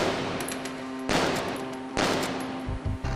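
A seized illegal gun is test-fired during a forensic examination: sharp, loud shots and short bursts crack out at close range, separated by brief gaps.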